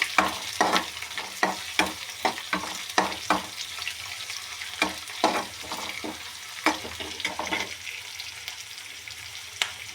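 Finely chopped onions fry in a pan for cabbage palya: a steady sizzle runs throughout, broken by regular, sharp scrapes and clinks of a spoon stirring, close and fairly loud.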